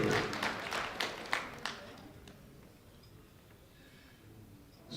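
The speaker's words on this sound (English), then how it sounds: "Round of applause for the lifter" Audience applause for a powerlifter at a European junior equipped powerlifting championship, a short burst of scattered claps that fades quickly into quiet room noise.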